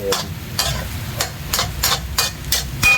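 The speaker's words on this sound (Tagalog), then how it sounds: "So, haloan natin ng sinangag." A spatula rhythmically scrapes and stirs tomato fried rice in a pan, with sharp regular strokes about every half second over a low steady sizzle.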